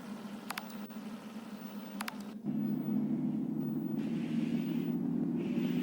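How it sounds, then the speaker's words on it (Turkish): A steady low city bus engine rumble in Bus Simulator Ultimate drones throughout, growing louder and fuller partway through, with a couple of brief high chirps early on. "Aracın sesi gerçekten çok güzel ya. Gürül gürül."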